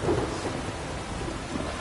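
Thunderstorm in the video game The Witcher 3: Wild Hunt, heavy rain hissing steadily with a low rumble of thunder at the start, loud and continuous with no voices.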